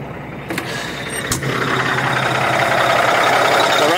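An ISX diesel engine runs on injector cleaner after warming up, a steady loud rumble that rises and settles into a constant drone after a couple of sharp clanks early on.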